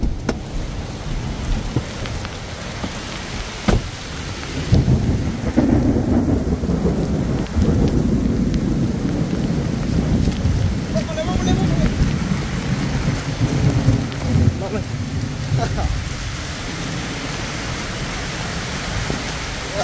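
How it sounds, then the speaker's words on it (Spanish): A heavy thunderstorm brings dense, continuous rain and loud rumbles of thunder that swell and roll for many seconds, steady and close throughout, with no voices over it. "Hay tormenta, cuas. Como que hay huracán, ¿no?"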